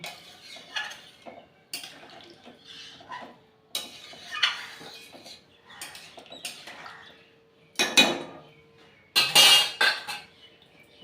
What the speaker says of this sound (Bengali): এবারে ভালো করে নেড়েচেড়ে মিশিয়ে দেবো